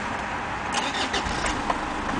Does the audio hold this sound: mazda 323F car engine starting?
yes